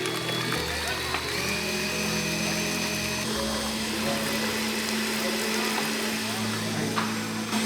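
An electric mixer whirs steadily while beating a sugar mixture for a cake at a cooking school, its motor pitch shifting as the load changes, with people talking over it.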